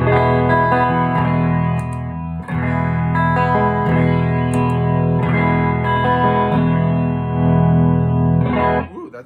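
An electric guitar through a Kingsley Mason tube pedal used as a clean boost plays ringing chords with a full, slightly driven tone, strummed steadily with brief pauses between phrases.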